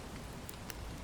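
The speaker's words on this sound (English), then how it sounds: "It's raining." Steady rain falls in the video game Bellwright, a dense, even hiss lasting about a second with a couple of faint brief crackles, no voices.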